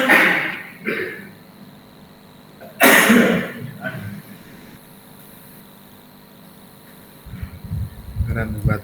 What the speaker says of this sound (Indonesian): beneran batuk